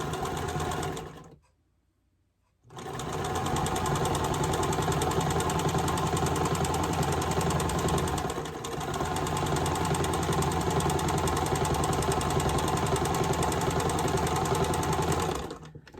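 A sewing machine stitches a quarter-inch seam on a quilt block at a small stitch length, a steady rapid mechanical whir that pauses briefly near the start, then runs on evenly.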